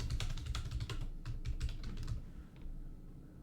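Quick, steady typing on a computer keyboard, the keys clattering close by in a dense run before easing off near the end.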